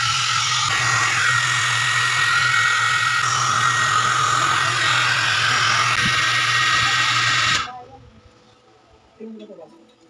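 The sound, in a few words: hair dryer blowing to melt ice in Samsung refrigerator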